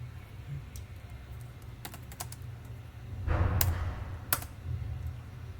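Quick bursts of keystrokes on a computer keyboard, close and crisp, with a denser flurry of typing in the second half and short pauses between runs.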